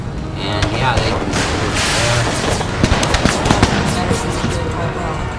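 Massed musket and rifle fire in an American Civil War Total War battle, a dense rolling crackle of overlapping shots with sharper cracks standing out, continuous and fairly loud throughout.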